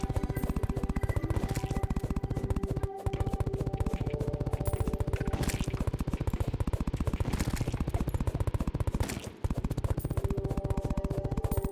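Turrets in Terraria fire nonstop at slimes, a dense, machine-gun-like rattle of rapid shots that barely breaks for nearly twelve seconds, loud and even, with two brief gaps.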